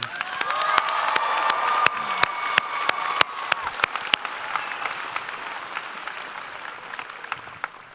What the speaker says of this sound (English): Let's give another round of applause for the MHS softball team on their impressive season.